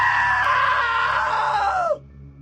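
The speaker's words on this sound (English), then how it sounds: "Now that was a great scream." A loud, sustained human scream in a video game, holding a high pitch for nearly two seconds before sliding downward and cutting off abruptly into quiet.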